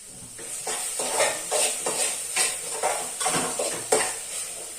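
Fried fenugreek leaves scraped from a pan into a mixer jar with a metal spoon, a steady series of close clinks and scrapes against the utensils over a faint hiss.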